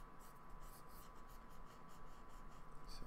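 A pencil shades the underside of a kneecap in a drawing of legs on paper, making faint, soft, repeated scratchy strokes at a steady rhythm.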